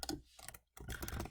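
Quiet clicking keystrokes on a computer keyboard come in short clustered bursts with a brief pause in the middle, close and faint, with no talk over them.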